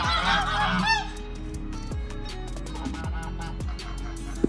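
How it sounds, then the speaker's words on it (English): Several geese at a wildlife park in Awka, Nigeria honk repeatedly and loudly nearby, a noisy overlapping chorus of calls. "This one they are Geese."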